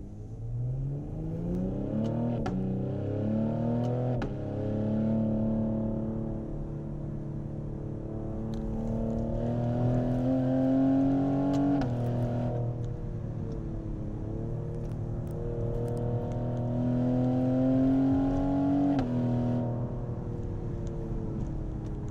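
A 2020 Cadillac CT5-V heard from inside the cabin while driven through corners, its engine repeatedly revving up through rising pitch, then dropping back between bends, in several loud, smooth acceleration surges.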